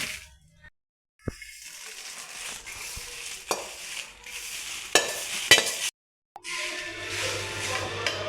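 Dry red chillies roast in a pan for homemade chilli powder, with dry rustling and scraping stirs broken by brief pauses and a few sharp clinks against the pan, no talking.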